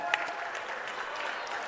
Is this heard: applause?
yes